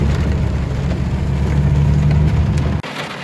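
Heavy rain drums steadily on a parked car, a loud dense wash with a low rumble, then cuts off abruptly near the end to a quieter hiss.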